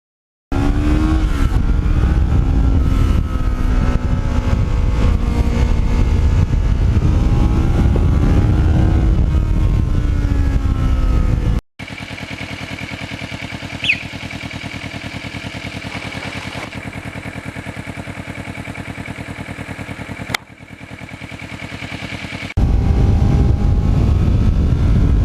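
A Kawasaki Ninja motorcycle rides along with a steady, loud engine drone, then shifts into a muffled, rushing wind-and-road roar before the engine tone returns.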